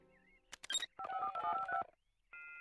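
Cell phone keypad tones under a run of quick button beeps, a dozen or so dialing tones in close succession at moderate level, followed by a steady higher tone, with a brief clatter just before the dialing.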